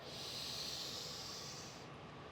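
A long, steady breathy exhale during a yoga session, soft hissing air close to the ear that fades toward the end, with no talking.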